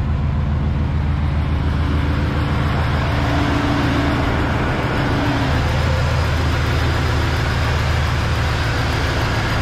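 A 1994-1996 Chevrolet Impala SS with a smoking tailpipe idles up close, a loud, steady low rumble with an even throbbing pulse that holds unchanged for the whole stretch.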